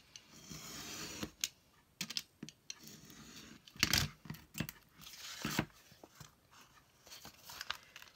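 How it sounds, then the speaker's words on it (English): Paper is snipped with scissors to trim a quarter inch off each end of a card flap, in short irregular crisp cuts and rustles, close and quiet, with no talking. "So I'm cutting off 1/4 inch on each end."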